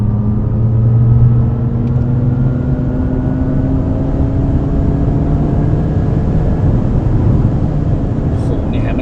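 A Maserati Grecale Folgore electric SUV with a single-speed transmission accelerating to overtake, a steady rising electric motor whine over constant road and tire rumble from inside the cabin, with someone talking over it.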